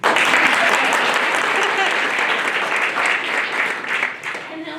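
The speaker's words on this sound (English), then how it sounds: "I didn't give Gardea a chance to get applauded." A meeting audience at a precinct advisory council gathering breaks into strong, steady applause for a police lieutenant, the clapping starting abruptly and tapering off near the end with some voices underneath.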